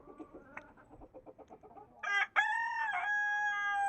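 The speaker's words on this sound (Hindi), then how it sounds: "और ये मुर्गे का काम देखो, बहुत बोलता है ये।" A run of short, rhythmic clucks gives way to a loud, drawn-out rooster crow that rings out clearly nearby.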